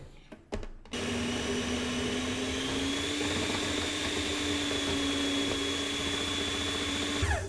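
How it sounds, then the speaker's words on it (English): A food processor motor whirs steadily at a constant pitch after a few brief clicks as it starts, running alone, loud and close, while cream is poured in through the feed tube for a chocolate caramel tart. "With the motor running, pour the cream through the feed tube in a steady stream"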